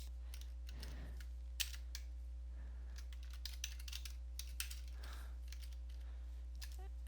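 A computer keyboard is tapped to type a file name, with sparse soft keystrokes and a few sharper clicks over a low steady electrical hum, quiet and close.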